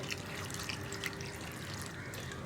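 Water poured into a pan of raw plantain with turmeric and salt for pachakkaya theeyal, a soft continuous splashing and trickling with faint drips, steady and close throughout.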